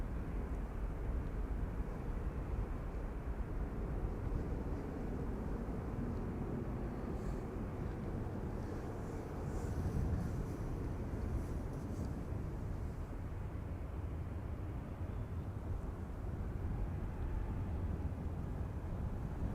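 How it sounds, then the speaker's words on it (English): A JetBlue airliner bound for New York taxis at Amsterdam Schiphol Airport, its engines a steady, low, distant rumble and whine holding evenly throughout without voices. "There's the JetBlue to New York coming this way."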